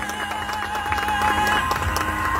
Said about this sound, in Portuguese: Pode bater palmas aí, pessoal.